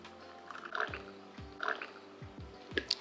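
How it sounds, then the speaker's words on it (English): Brewed coffee poured from a cafetiere onto syrups and spices, heard as a few soft, close liquid splashes and drips in short bursts against a quiet kitchen background. "And then pour it on top of the syrups"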